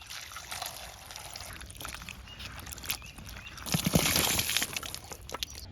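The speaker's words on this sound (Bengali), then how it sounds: "সবজিটা কোটা হয়ে গেছে এখন সবজিটা ধুয়ে লমু" Chopped vegetables being washed in a pot of water for vegetable khichuri, with sloshing, pouring and trickling splashes, loudest near the end, outdoors with faint birds in the background.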